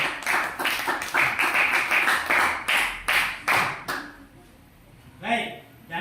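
Students in a classroom clap in a brisk rhythmic burst for a discussion group, a steady run of sharp claps that stops abruptly, leaving a quiet room with a brief voice.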